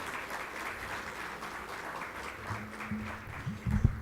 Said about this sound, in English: I request member to please join us in welcoming sir with a big round of applause